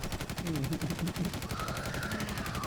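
Rapid automatic gunfire rattles steadily while a player shoots at a boss in a video game, loud and continuous with no talk over it.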